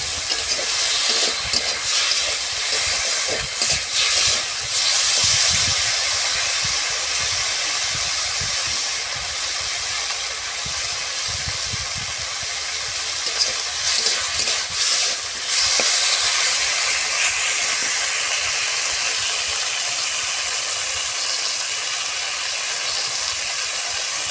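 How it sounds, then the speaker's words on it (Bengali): Fish fries in a wok, a loud, continuous close-up hiss of hot oil that surges and eases in waves for the whole stretch, with no voices. "এটা করার জন্য প্রথমে আমাদের কড়াই নিহেরে মাছটাকে ভালোভাবে ভেজে নিতে হবে"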